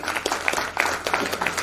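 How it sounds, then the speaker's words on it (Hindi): Audience applause at a 2024 stage event in Prayagraj, honoring the co-director; short irregular clapping bursts, moderately close, with a faint voice underneath. "सह निर्देशक हेमंत सिंह जी के लिए भी जोरदार तालियां"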